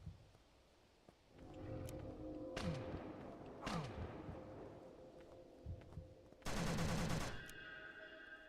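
Shotgun blasts in the horror game Chasmal, several heavy booming shots spaced a second or so apart, ending in a louder rapid burst, with no talking.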